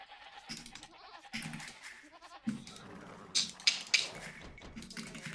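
Goats bleat several times in a row, the calls coming in clustered bursts toward the end over a quiet, irregular background.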